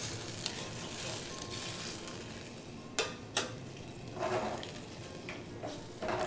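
Sauce reducing in a pan for a Christmas dinner, a soft, continuous sizzle and bubble, with two sharp utensil clinks midway and a few brief swells of frying noise.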